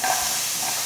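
Chopped onion dropped into a hot pan for sautéing with garlic and ginger: a steady, close hiss of sizzling oil, continuous and fairly loud, with no voices.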